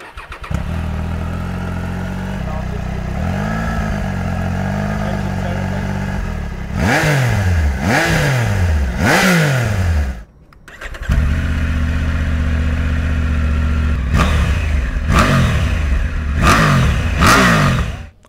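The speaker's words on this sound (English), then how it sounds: "you get this new raspy tone from the exhaust note, which really sounds nice" A Triumph Tiger 900 triple-cylinder motorcycle engine idles with a rough, raspy exhaust, then revs sharply several times in quick bursts, twice over, close and loud.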